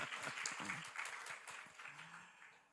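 A church congregation applauds during a Khmer sermon, a soft, scattered clapping that swells and thins over a few seconds in a reverberant hall, with faint voices mixed in.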